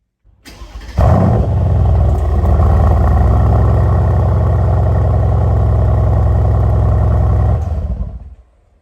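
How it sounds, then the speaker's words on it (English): Mercedes AMG exhaust starting up in Sport Plus mode, a loud rising bark at ignition that settles into a deep, steady, rumbling idle held for several seconds before cutting off abruptly. "The exhaust sounds when you first start the car."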